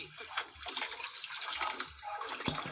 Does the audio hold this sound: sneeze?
no